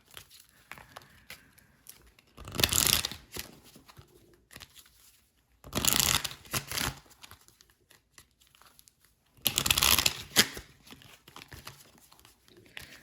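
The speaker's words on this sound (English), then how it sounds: "let's pull your final oracle cards" Oracle cards being shuffled for a tarot reading, heard as three separate bursts of papery crinkling and riffling, each a second or so long, with quiet gaps between.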